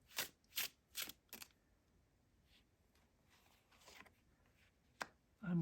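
An oracle card deck being shuffled by hand: a quick run of four crisp riffling bursts, then quieter rustling and a final sharp snap, fairly faint and close with no talk.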